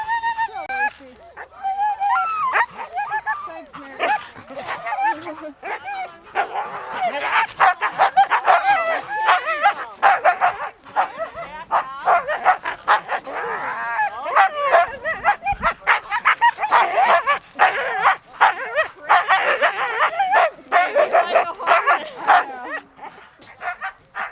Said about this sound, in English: You're watching Siberian Husky dog sled racing